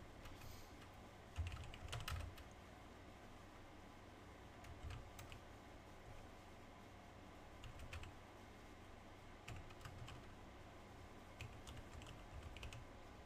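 Someone types on a computer keyboard set right in front of them, with a steady patter of quiet, close keystrokes, an occasional louder burst, and a faint room hum underneath.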